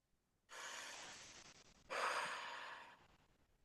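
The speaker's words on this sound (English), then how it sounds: "Inhale deeply through the nose, long controlled exhale through the mouth." A deep breath drawn in through the nose, then a long, controlled exhale through the mouth: two steady, close, airy breaths, the second louder and rougher, with no talking.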